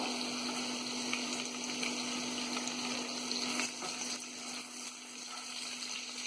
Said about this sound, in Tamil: போட்டு நல்லா ஹை ஃப்ளேமில் வதக்கிக்கலாம்